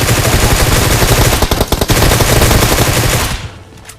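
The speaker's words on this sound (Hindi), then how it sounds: "ये बंदे चर्च की तरफ M4 को सिंगल मोड में करके गोलियां चला रहे थे" M4 rifle firing in single-shot mode in PUBG: a dense, loud burst of rapid shots near a church, fading out at the end.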